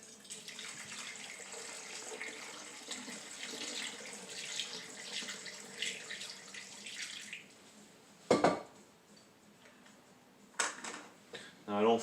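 Kombucha pours in a steady, soft liquid stream into bottles for several seconds, followed by a few sharp clinks and knocks of glass being handled, all quiet and close.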